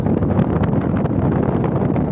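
Strong wind buffets the microphone while riding along a road, a continuous loud low rumble and whoosh with no voices.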